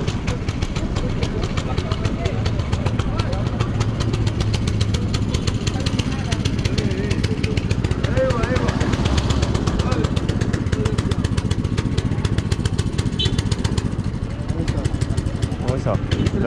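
A motorcycle engine runs steadily throughout, a continuous rumbling drone close by, with people talking over it, at Haraj market in Dammam.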